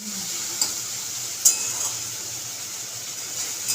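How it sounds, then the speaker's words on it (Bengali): Salted leafy greens stir-fry in a pan over lowered gas, giving a soft, steady sizzle with a few sharp clinks of a utensil against the pan. "শাকটা ভাজা হয়ে গেছে"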